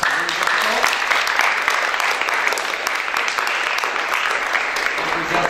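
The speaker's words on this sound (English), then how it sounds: "let's give our competitors a big round of applause" An audience claps loudly and steadily for poetry recitation competitors, a dense continuous round of applause with some voices mixed in.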